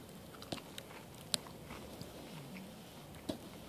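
Outdoors in the bush, someone bites into bannock made with onions, herbs, butter and cheese and chews it. A few soft crunches are followed by quiet, close chewing.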